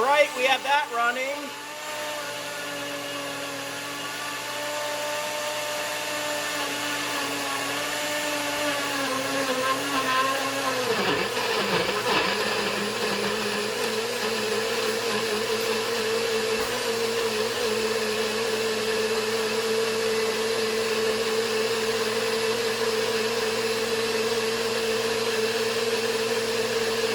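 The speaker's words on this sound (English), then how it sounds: "I'm going to plug in my NutriBullet" A NutriBullet blender whirs steadily as it blends a homemade milkshake. The loud, continuous motor drone shifts pitch briefly early on, then settles into an even, sustained roar.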